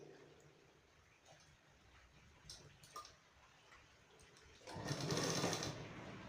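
A sewing machine stitches a child's school shirt, starting with faint ticks and then running in a loud, close whirring burst near the end, with no voices over it.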